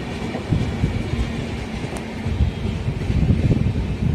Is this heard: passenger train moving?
yes